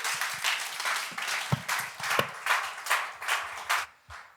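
Brief, loosely synchronized clapping from a small audience at a church lecture, a rhythmic patter of distinct claps that tapers off near the end.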